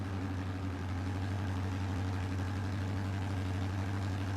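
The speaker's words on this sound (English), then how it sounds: "Got to run the Farmall 806 here in this one" Farmall 806 tractor idling in Farming Simulator 22, a steady low diesel drone with a strong constant hum, continuous and unchanging at close range.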